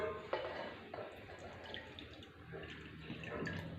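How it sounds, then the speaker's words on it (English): Milk pours into a mixer jar for a chocolate shake, a soft continuous gurgling splash with small drips, close but quiet, with no talk. "So first we'll take the milk and pour it into the mixer jar."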